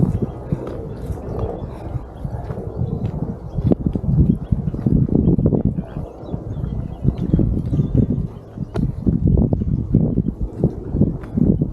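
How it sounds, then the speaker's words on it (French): Charging cows pound over the ground on a hillside in the wild mountains, a continuous heavy thudding of hooves mixed with rustling and wind buffeting the microphone, loud and close throughout. "Je me fais charger par les vaches."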